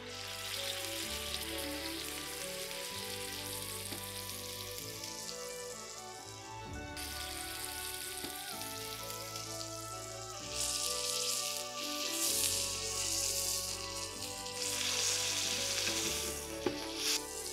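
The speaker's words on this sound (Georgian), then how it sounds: "და ახლა მოვათავსებთ წინასწარ გახურებულ ტაფას." Oiled, salted and peppered beef tenderloin sears in a preheated frying pan, giving a loud continuous sizzle with crackling spatter that swells in intensity over a long stretch.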